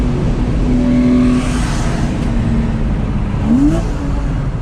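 Porsche Boxster Anniversary Edition, a manual car, run at full throttle through the whole rev range on a drive toward the Nürburgring, its engine note climbing steadily and loudly in a continuous roar with a rising whine.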